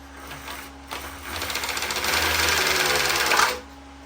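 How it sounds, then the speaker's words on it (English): A cordless power drill whirs steadily, ramping up in speed and pitch over a few seconds with a constant mechanical hum before cutting off near the end; close and fairly loud, with no talking. "You'll hear the drill when it starts picking up."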